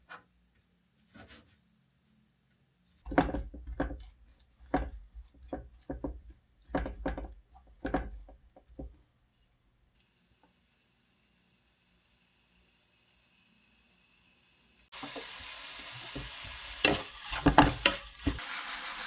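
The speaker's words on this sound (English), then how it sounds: "All I had to do was cut it into thin slices and get it ready for stir-frying." Sliced pork is prepared in South Korea with sharp knife chops and knocks on a board, then a quiet pause, followed by steady sizzling in a hot pan with scraping stir-fry strokes.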